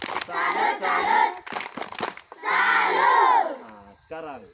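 At a Sunday children's gathering at an elementary school, a group of children shouts the tepuk salut clapping chant in loud, rhythmic bursts of voices and claps, with short pauses between phrases.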